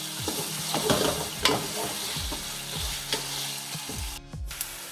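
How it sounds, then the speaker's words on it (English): Ginger, garlic and onions frying in a pot for chicken keema biryani, stirred steadily: a continuous close sizzle with repeated scraping strokes of a spoon against the pot, no talking. "you got to keep on stirring the pot so the ginger garlic doesn't get burned and stick in the bottom"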